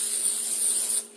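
A can of cooking spray hisses into a pan during French toast cooking, one steady close burst of about a second that cuts off abruptly, with no talking.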